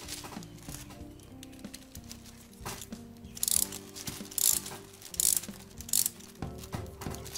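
A clamp is ratcheted tight while repairing an 1880s Ansonia Syria 8-day antique mantle clock. Close metallic clicking and grinding come in irregular bursts, with four louder rasping strokes near the end and no talking.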